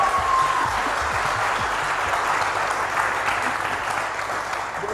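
A short burst of hand clapping from a group, close and steady throughout and then easing slightly toward the end.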